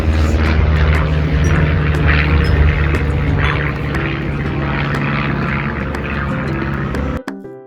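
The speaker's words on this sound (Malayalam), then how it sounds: "മേളിക്കൂടെ ഒരു ജെറ്റും പോണ്ട്." A jet aircraft passes overhead near a lake resort at Orillia, Canada, as a loud, steady engine roar that holds for several seconds and then cuts off abruptly.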